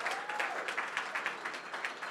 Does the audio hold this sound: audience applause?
yes